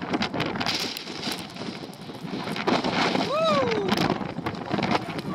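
Strong winter wind on the seafront at Eforie Nord, a steady loud roar buffeting the microphone throughout, with a gull's call briefly rising above it.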